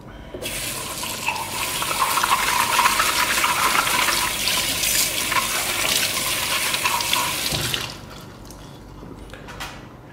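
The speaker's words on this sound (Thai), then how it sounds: "เพียงแค่เราเปิดน้ำไหลผ่านนะครับ แล้วเราก็ใช้ฟองน้ำเนี่ยครับ" Tap water pours steadily over a Hurom H100 juicer filter cup in a sink, a loud, even splashing rush lasting several seconds before it is cut off, leaving faint drips.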